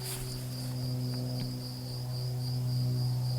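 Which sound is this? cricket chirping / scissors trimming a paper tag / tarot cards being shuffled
cricket chirping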